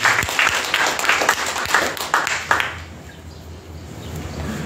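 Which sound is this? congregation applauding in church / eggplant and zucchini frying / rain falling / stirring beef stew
congregation applauding in church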